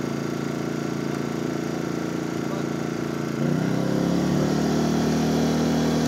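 A small inverter generator hums steadily, then its pitch rises and it runs louder and harder as load from an 800-watt drill comes on midway.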